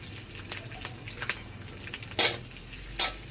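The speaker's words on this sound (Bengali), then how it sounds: "লাল লাল করে আমি পেঁয়াজকে ভেজে নিয়েছি" Chopped onions and green chillies fry quietly in a pan, giving a faint steady crackle with a few brief sharper sizzles and stirring scrapes.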